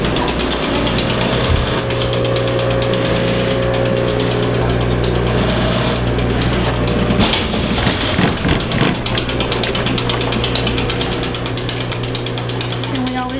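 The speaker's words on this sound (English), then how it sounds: "Going back to my sewing machine." An industrial sewing machine stitching a Duluth Pack leather pack runs in a loud, steady mechanical whir with rapid rhythmic needle clatter, with a brief harsher burst partway through.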